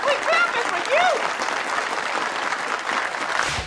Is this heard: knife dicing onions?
no